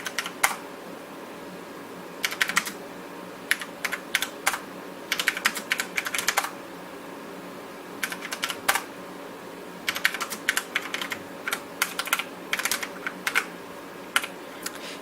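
Keys clack on an NEC PC-9821 computer keyboard in uneven bursts of quick typing separated by short pauses, crisp and close over a faint steady hum.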